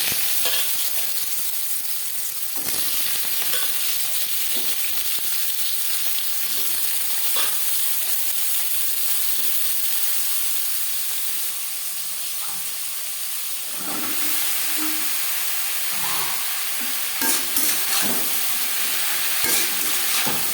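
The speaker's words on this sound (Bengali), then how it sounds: "দশ পনেরো সেকেন্ড কালো জিরে ভেজে নেওয়ার পর দিয়ে দেবো কুমড়ো" Pumpkin fries in hot refined oil with black cumin (kalo jeere), giving a loud, unbroken close hiss and sizzle. Occasional clinks and scrapes of stirring mark it, and it briefly dips before swelling again.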